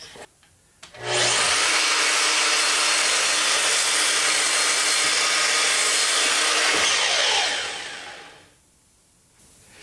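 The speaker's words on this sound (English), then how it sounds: "while I'm at the miter saw, I'm going to cut these out of some 1x6 that I have" A miter saw cuts through a 1x6 wooden board, a loud, near, continuous whine and roar that runs about six seconds before spinning down to a lower hum.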